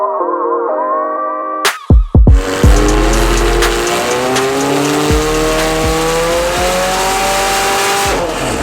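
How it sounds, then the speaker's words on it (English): A McLaren 720S with a stage 2 tune, downpipes and silencer delete revs hard on the road, its exhaust letting out a burst of sharp pops and cracks before settling into a loud, sustained engine drone as it drives on. "do some sound comparison clips of the exhaust before and after"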